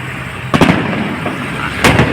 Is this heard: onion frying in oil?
no